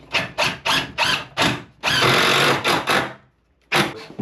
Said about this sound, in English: it's a matter of just running a screw through here into this